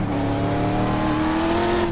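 A three-speed race truck engine in the iRacing simulator holds a loud, steady high-revving drone whose pitch creeps slowly upward as it accelerates, with no talking.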